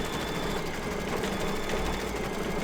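An embroidery machine stitches metallic thread onto red fabric for an in-the-hoop Christmas mug rug, a steady close mechanical whirr and rapid needle chatter running throughout without pause.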